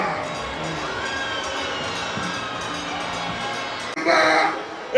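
A political rally crowd in Asaba, Delta State, roars and cheers for Dr. Okowa, a continuous broad noise of voices and shouts that surges louder near the end.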